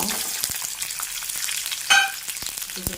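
Mustard seeds splutter and small shallots fry in hot oil for a kuzhambu, a dense, close crackling sizzle with scattered sharp pops and one brief louder burst.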